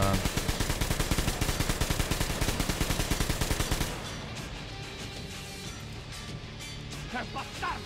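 Rapid automatic gunfire in the video game Metro Exodus rattles in a steady burst for several seconds, then cuts off, leaving quieter scattered noises and a few faint shots.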